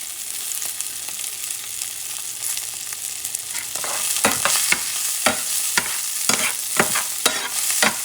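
A lamb chop stew with cilantro sizzles in a pan while being stirred, soft frying hiss first, then a run of sharp, close scraping and clattering strokes in the second half, with no one talking.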